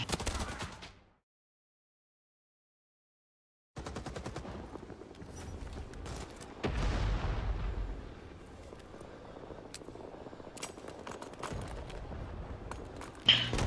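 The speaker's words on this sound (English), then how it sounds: "Probably not the best idea to throw a grenade indoors" Grenade blast and gunfire inside a building in the Vietnam War shooter Rising Storm 2: Vietnam: a short burst of shots, sudden silence, then a heavy rumbling explosion followed by scattered crackling shots and debris.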